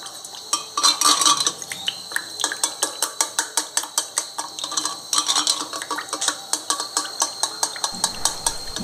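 A spoon scrapes and clinks steadily against a bowl while a hair paste is mixed, in quick regular strokes that continue for the whole stretch, close and moderately loud.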